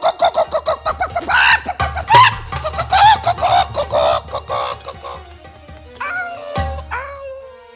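A man vocally imitates a hen's clucking in a comic stage skit, giving a rapid run of loud, choppy clucks and squawks up close, ending in a few higher cackling calls.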